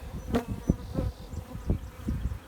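Honeybees buzz around a freshly enlarged hive entrance, a steady low drone rising and falling with several louder swells as insects pass close by, with no voices.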